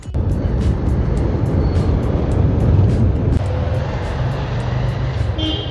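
Heavy road traffic near a bus and taxi stand on the route from Shimla to Delhi, a dense continuous rumble of engines with a passing vehicle building up, over steady broadband noise with faint high clicks.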